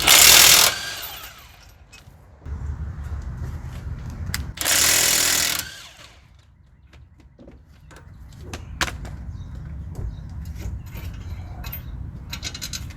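An impact wrench works on the bolts of a Ford Flex during a bearing, CV axle and tie rod job, giving short loud bursts of rattling hammering between quieter stretches of clanking and tool handling nearby.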